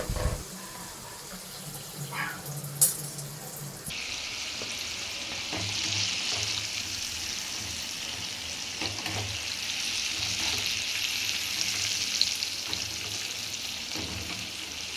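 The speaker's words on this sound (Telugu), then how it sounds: "ఇప్పుడు మిగతావి కూడా డీప్ ఫ్రై చేసుకుందామండి." Prawn pakodi deep frying in hot oil: a steady, loud bubbling sizzle that swells after a few seconds and holds, with occasional soft clinks of a utensil.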